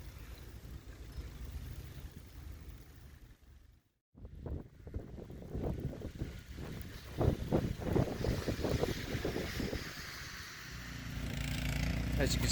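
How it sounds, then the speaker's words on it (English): Strong wind gusts during a nor'easter snowstorm in Bath, Maine, roaring and buffeting a microphone outdoors in uneven surges, with a brief drop before rising again; a voice speaks partway through. "Good wind, some very strong gusts coming through."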